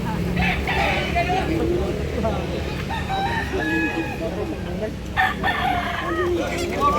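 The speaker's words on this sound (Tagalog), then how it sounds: "Gwapo to manok ka." At a busy rooster market in Danao, Cebu, a rooster crows over the chatter of a crowd of buyers and sellers, with people talking nearby and other fowl calling faintly in the background.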